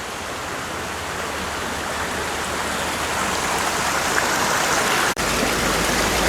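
Steady rushing water of a creek pours over boulders in Great Smoky Mountains National Park, a dense, close, continuous roar with no voices, briefly dipping for an instant near the end.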